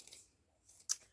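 Scissors snipping paper for an envelope craft, heard as two quiet, short cuts about a second apart with near silence between them.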